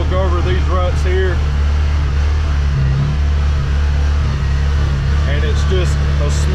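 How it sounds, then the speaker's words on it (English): A CFMOTO UFORCE 1000 side-by-side, tuned with an MSC tune, drones steadily as it drives over rutted, uneven ground, a loud constant engine hum with someone talking over it. "See the machine's hitting uneven ground. We'll go over these ruts here"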